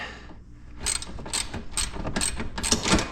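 Ratchet wrench clicking in quick bursts while tightening 17 mm bolts on a Honda Rubicon 520 ATV during a Highlifter 2-inch bracket lift install, close and fairly loud, several rapid ratcheting runs with no talking.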